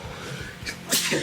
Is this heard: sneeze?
yes